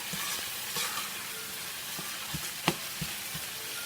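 Saltfish buljol with shadow benny, or cilantro, cooking down in a pan after a toss, a soft steady sizzle broken by several sharp scraping knocks of a utensil against the pan.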